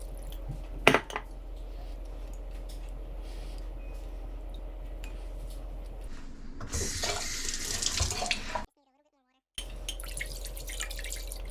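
Tap water runs steadily into a container of tofu, splashing louder for a couple of seconds before cutting out, then resuming briefly.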